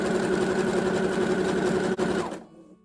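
A sewing machine runs steadily, zigzag stitching fold-over elastic onto stretchy fabric, a close continuous whirring hum that stops abruptly near the end.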